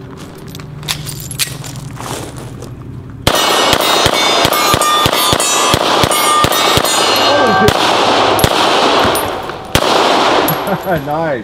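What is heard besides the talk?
Beretta 92 FS pistol gunshots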